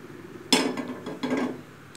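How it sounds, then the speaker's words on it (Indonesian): A wok is set down on a stovetop with two clattering metal clunks about 0.7 seconds apart, close and moderately loud in a quiet home kitchen. "Pertama kita nyalakan kompornya dan kita siapkan wajan."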